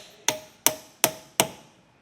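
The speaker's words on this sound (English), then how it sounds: "you're just going to want to hammer those flush so we can get our hitch in" Four sharp, evenly spaced hammer blows ring out on metal trailer hitch brackets of a 2025 Subaru Ascent while they are flattened for a Curt hitch receiver. Each strike is loud and close, with a short decay and no talk.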